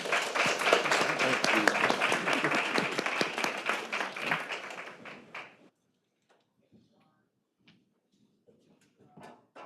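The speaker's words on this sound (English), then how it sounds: "let's have a round of applause for this amazing panel" Conference audience claps for a panel, a full burst of applause that fades out after about five seconds into near silence with a few faint knocks and shuffles, and a brief thank-you spoken.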